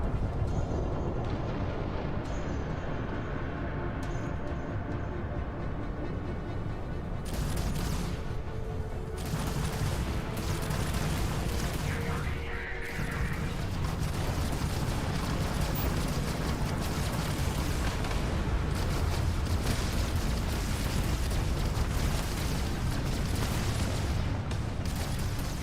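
A spaceship battle in Starfield, with dense rumbling blasts and rapid weapon fire layered into a loud, continuous roar of explosions that barely lets up.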